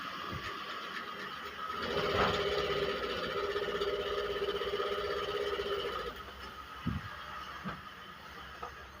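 A Kansai industrial sewing machine running in a workshop, a faint steady mechanical whir lasting about four seconds, then a few light clicks as it stops.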